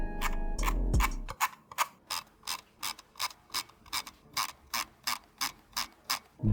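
A Zowie EC3-CW mouse scroll wheel with 24 notches gives a fast series of sharp, evenly spaced mechanical clicks, about two per second, loud and close with nothing else around them.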